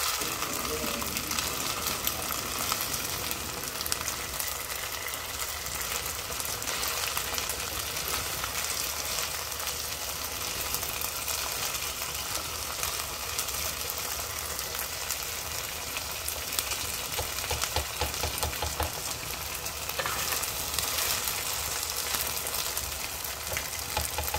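Continuous loud sizzling and frying from a hot pan of eggs and rice for potato fried rice, with occasional stirring scrapes; no talking.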